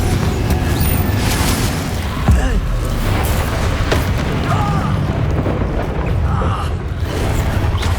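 Spell blasts from the Confringo and Incendio spells in the video game Hogwarts Legacy, loud rumbling bursts and booms layered over dense combat noise, with a sharper thump around the middle and continuous crackling texture throughout.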